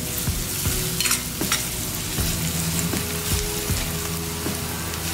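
Onion masala with garam masala or kitchen king spice sautés in a pan, a steady sizzle running throughout with regular scraping stirs every second or so.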